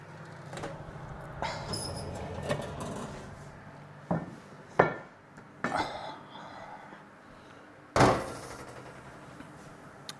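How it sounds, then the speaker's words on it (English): A lid lifted off a pot holding baking spelt sourdough bread, with several sharp knocks and clanks of the lid and cookware amid quiet kitchen rustling and faint background hum. "Let's take the lid off."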